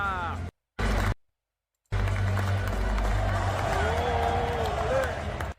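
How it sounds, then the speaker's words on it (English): A WWE Raw arena crowd cheers for the Americanos, a broad, steady roar after a few brief cutouts, with someone talking over the noise. "They cheer up for the Americanos"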